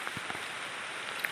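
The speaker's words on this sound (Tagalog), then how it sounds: "Medyo malakas ang ulan ngayon" Heavy rain falling outdoors in the Philippines, a steady dense hiss with a few sharper drops landing nearby, no talking.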